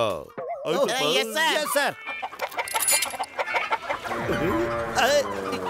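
In an animated cartoon scene at a roadside dhaba, a voice imitating chicken clucks and squawks in warbling bursts, followed by agitated cackling and scattered noises, loud and close.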